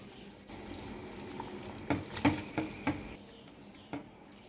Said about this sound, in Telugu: వాటర్ బాయిల్ అవుతున్నప్పుడు నూడిల్స్ వేసేసుకోవాలి